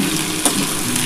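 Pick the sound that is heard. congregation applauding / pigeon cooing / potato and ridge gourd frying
potato and ridge gourd frying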